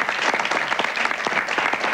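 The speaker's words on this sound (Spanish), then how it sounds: "¿Y los aplausos? Así me gusta, espontáneamente." Studio audience clapping steadily and loudly throughout on a Venezuelan RCTV comedy show, with a faint voice briefly over it.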